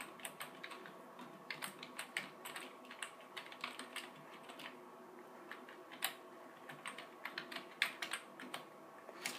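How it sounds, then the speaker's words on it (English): Steady, quiet typing on a computer keyboard continues throughout, with soft close key clicks and a faint hum of room noise underneath. "Type your email."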